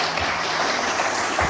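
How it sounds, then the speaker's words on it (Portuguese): A short burst of audience applause during a talk before an ayahuasca ceremony: many hands clapping together, steady and fairly loud for about a second and a half. "Eu quero uma salva de palmas para esses dois,"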